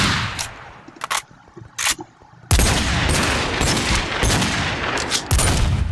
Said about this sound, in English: I'm right out of ammo for my right assault rifle